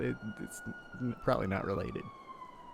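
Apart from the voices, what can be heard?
police siren in the video game GTA V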